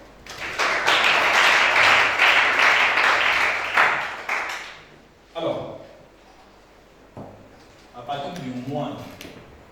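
A church congregation bursts into sustained applause during a teaching service, loud clapping filling the room for several seconds before fading, followed by scattered talking voices.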